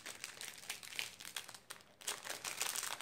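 A plastic wrapper on packaged treats crinkles and crackles up close in quick, irregular bursts while someone struggles to tear it open, fairly quiet with no talking.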